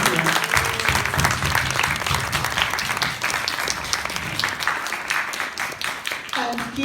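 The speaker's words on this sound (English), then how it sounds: "So I think we should give a very big round of applause for all these ladies here." Sustained audience applause at a charity satsang event at Bhawan mandir, a dense steady wash of many hands clapping that fills the room at even loudness throughout.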